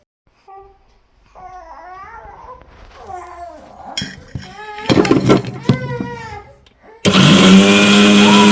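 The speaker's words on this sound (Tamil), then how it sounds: "இப்போ நான் அரைக்க நம்ம என்ன பண்ணுவேன், ஒரு கொஞ்ச நேரம் நான் அரைச்சிட்டு வரேன்." An electric blender grinds banana, wheat flour and salt into batter, kicking in loud and close near the end after a stretch of babbling baby sounds and some nearby adult talk.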